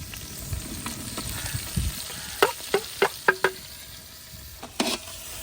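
Whole spices such as cardamom, star anise, black pepper and cloves roast in a pan for a sajji rice dish, giving a soft steady sizzle broken by a handful of sharp stirring clinks and taps, with no talking.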